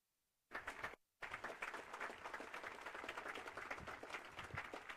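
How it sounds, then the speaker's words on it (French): Loud applause for veterans at a ceremony marking the 75th anniversary of the Dieppe Raid in France, bursting in after a moment of silence, breaking off briefly, then resuming as steady, close clapping. "je vous demande d'applaudir fortement les vétérans présents à nos côtés"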